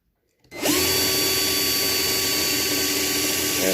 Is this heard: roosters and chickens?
no